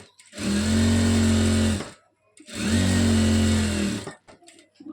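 Two loud, close runs of a sewing machine stitching a churidar top lining, each about a second and a half of rapid, buzzing motor whir, separated by a brief pause and ending in small clicks.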